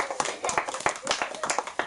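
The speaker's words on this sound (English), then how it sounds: "Let's give Max a big round of applause for helping me out of here." A small audience at a children's birthday party magic show claps for a young helper, a brief burst of close, scattered handclaps with a few voices mixed in.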